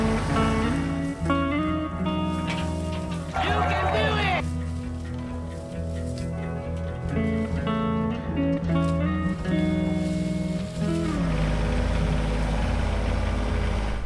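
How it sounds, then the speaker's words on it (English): Tractor engine running steadily while maneuvering between small trees, a continuous mid-to-low hum with slight shifts in load, heard under people talking nearby. "Trying to maneuver through all these little trees with that tractor."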